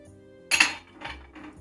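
A yogurt salad dressing with garlic, black pepper and salt is stirred in a bowl: one sharp clink of a utensil followed by two softer scraping strokes, close and without talk.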